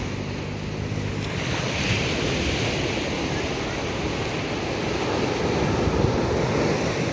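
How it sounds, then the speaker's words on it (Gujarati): Waves wash steadily onto Madhavpur Beach in Gujarat, a continuous surf roar with wind buffeting the microphone throughout. "જો માધવપુરનો દરિયા કિનારો"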